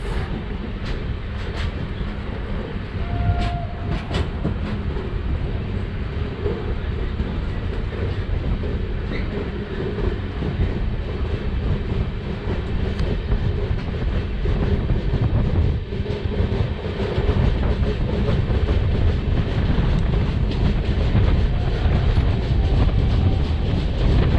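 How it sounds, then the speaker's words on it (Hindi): Loud, close rumble of a passing train on a railway track in India, steady and continuous throughout, with rhythmic wheel clatter and occasional faint squeals, no voices. "कोई ट्रेन आ रही है दोस्तों, वहाँ से देखते हैं कौन सी ट्रेन है"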